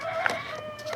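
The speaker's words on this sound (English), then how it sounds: "rooster's doing his thing." A rooster gives a short, faint crow, a brief strained call from some distance, heard alone without talk.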